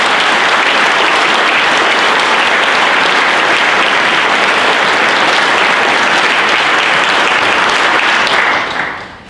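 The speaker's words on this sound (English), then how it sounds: "Let's give him a big round of applause." Audience at a Salute to the Armed Forces event applauding a soldier, dense loud continuous clapping from a sizeable crowd that holds steady and fades out at the very end.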